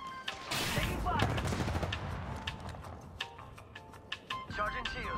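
Gunfire in the Apex Legends video game, rapid bursts of automatic fire that start close and loud then thin into scattered sharp shots, with in-game effects and short beeps toward the end.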